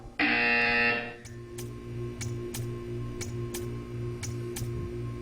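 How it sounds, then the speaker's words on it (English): A loud electronic buzzer in the video game Portal 2 sounds for about a second. A steady series of sharp ticks follows over a low repeating hum. "You will hear a buzzer."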